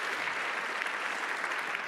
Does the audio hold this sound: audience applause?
yes